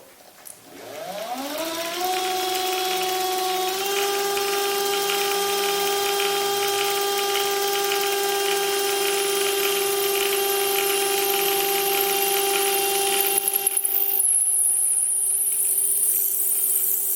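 A steampunk pillar drill spins up and runs steadily while drilling through brass, a rising motor whine that settles into a loud sustained hum with bright harmonic tones, roughening briefly near the end as the bit cuts through.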